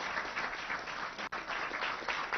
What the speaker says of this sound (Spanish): Un aplauso a toda la misión médica